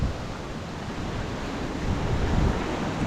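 Sea waves washing in below Varkala Cliff in Kerala, a continuous surf rush mixed with wind buffeting the microphone, swelling slightly louder toward the end, with no speech.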